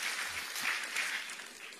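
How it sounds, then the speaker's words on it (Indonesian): Church congregation applauding after a preacher's call for loud applause during an Indonesian sermon, a steady wash of clapping held for the full two seconds, fairly even and moderately loud with no voices over it. "Berikan tepuk tangan yang meriah."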